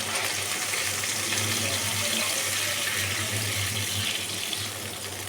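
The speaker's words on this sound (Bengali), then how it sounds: "আমি নর্মাল জল দেব না, আমি ছানার জলটা রেখেছি সেটাই দেব।" Chhana whey water poured steadily into a simmering curry masala for a vegetarian paneer kofta curry, a continuous close splashing, gushing pour lasting the whole few seconds with no talk.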